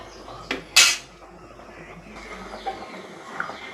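A spoon stirs fish curry in a metal cooking pot, with one sharp clank followed by scattered scrapes and light taps against the pot.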